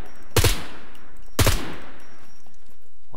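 Two loud, sharp gunshots about a second apart in the survival game Scum, each with a bright crack and a short decaying tail, fired near the listener with quiet ambience between and no talking.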